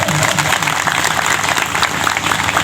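A crowd at an outdoor Sarna prayer gathering claps together, loud and continuous rhythmic applause with a voice speaking briefly at the start.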